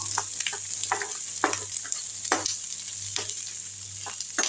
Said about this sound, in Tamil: பச்சை வாசனை போகிற அளவுக்கு ஒரு 3 நிமிஷம் வதக்கினா போதும்